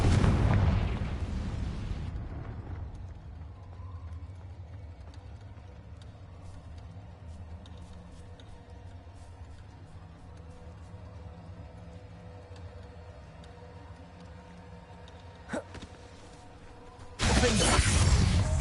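A Confringo blasting-curse spell effect from Harry Potter, heard as a loud burst that decays into a quiet hum, followed much later by a second sharp explosion and a crash.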